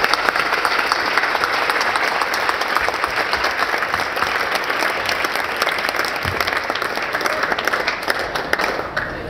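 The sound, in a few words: audience applause for the speakers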